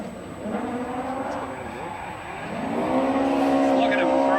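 A classic rally car at the Otago Classic Rally 2013 slides sideways toward the finish line on the last stage, its engine revving hard and rising with tyre noise, close and loud throughout.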